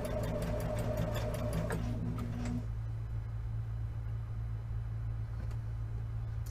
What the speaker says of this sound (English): I am sewing today on my Baby Lock Jazz.